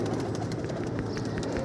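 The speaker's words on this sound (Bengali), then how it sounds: "একসাথে ছাড়লে দেখা যায় যে সবগুলো কবুতর কিন্তু গোসল করে না, ডিস্টার্ব করে।" Pigeons in a rooftop loft released together to bathe, soft cooing and fluttering close by over a short burst of busy low background sound.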